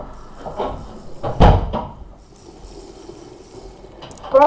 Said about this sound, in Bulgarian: сега на YouTube само се затворя вратата